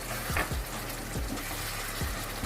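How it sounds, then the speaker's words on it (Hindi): Noodles being stirred in a pan with soy sauce and chili sauce: a soft wet sizzle runs throughout, with a few short scraping and clacking strokes of a spoon or spatula against the pan, no voices. "इसको अच्छे से मिक्स कर लेते हैं।"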